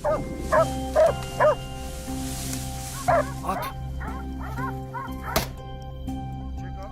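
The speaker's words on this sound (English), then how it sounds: "The air suddenly filled with the sound of barking dogs and the wild boar's screeches" Hunting dogs bark at wild boar in a series of sharp, loud barks, then softer yips and whimpers, with a brief low voice heard in between.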